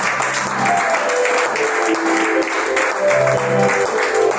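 Church congregation applauding during a Sunday service, a steady, dense clapping from many hands that continues throughout, fairly close and loud, with faint voices mixed in.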